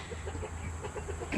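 Chickens in their run give soft, irregular clucks and low murmurs close by, forming a continuous busy flock chatter.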